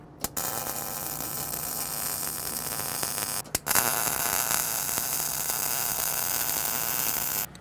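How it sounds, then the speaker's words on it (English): Welding on the inside of a Toyota 4Runner suspension during fabrication gives a steady, loud, crackling hiss that runs in two long bursts with a brief pause between them. "So I'm welding on the inside now."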